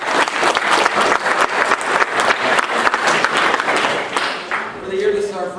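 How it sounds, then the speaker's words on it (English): An audience at an honors college symposium gives itself a loud round of applause, dense clapping that surges in waves before fading as a voice starts talking near the end. "Give yourselves a round of applause."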